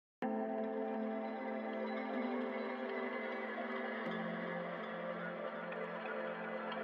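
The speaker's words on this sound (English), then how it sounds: "Reverse the piano, play a lot of reverbs," A sustained, swelling wash of tones fades in and hangs in the air, like backward piano notes smeared with heavy reverb and echo, with no voices.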